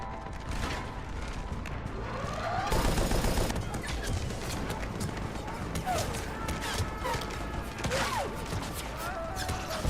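Gunfire from guns in the video game Mass Effect 3, bursts of rapid automatic shots with mechanical clatter, loud and near, mixed with background game sounds and occasional voices.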